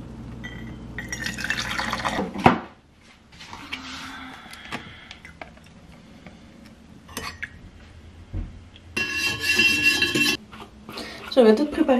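Dishes being washed under a running tap, with water filling and splashing in bursts, clinks of glass and plates, pauses between rinses, and a stronger gush of flowing water near the end.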